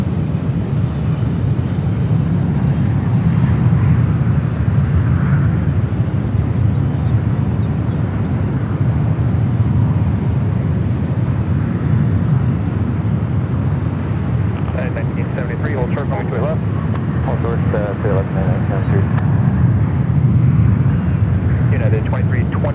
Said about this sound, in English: the flight coming in from Auckland, 787-9 Dreamliner for Air New Zealand.